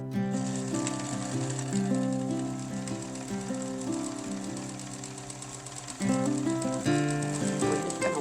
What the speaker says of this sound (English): we're going to sew around to the back where the curved edge is